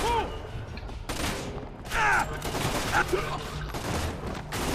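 Rapid bursts of gunfire crack repeatedly in a chaotic exchange in the video game Splinter Cell: Conviction, with shouting voices mixed in over a dense, noisy background.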